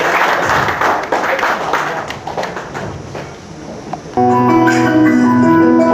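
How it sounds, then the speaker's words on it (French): Guests applaud the newlyweds at a traditional Cameroonian wedding, a crowd of clapping for about four seconds before music with a steady beat takes over. "On les applaudit."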